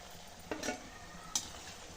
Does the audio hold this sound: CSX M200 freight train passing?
no